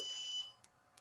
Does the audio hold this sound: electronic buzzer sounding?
yes